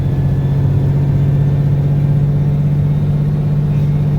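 An old farm truck's engine idles at a steady low rumble, close and constant throughout, with no voices over it.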